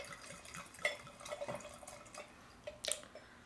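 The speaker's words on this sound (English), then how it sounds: "poured about an ounce into my glass here" Phillips blended Scotch whisky is poured into a glass, a faint, brief trickle with scattered soft drips and small clinks, close by and quiet, with no talking.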